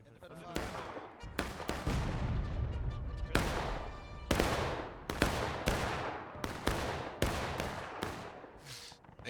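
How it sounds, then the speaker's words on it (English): Ragged musket volleys from independent fire in the Civil War game War of Rights, sharp cracks and thuds in quick irregular succession at close to middle distance, some shots overlapping. "independent fire, commence fire. Independent fire."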